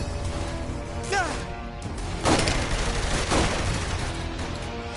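Gunfire and impact crashes from the Genki Bowl shooting minigame in Saints Row The Third Remastered, a busy run of sharp shots and smashes layered over game music and announcer-style talk.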